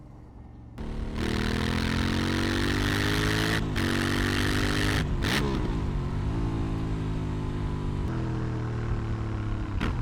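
A 2018 Aprilia Shiver 900 twin-cylinder motorcycle engine starts and revs repeatedly, its pitch rising and falling with sharp throttle blips, loud and close.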